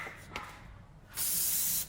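A spray can lets out a short steady hiss for about half a second after a couple of faint clicks, fairly close and alone.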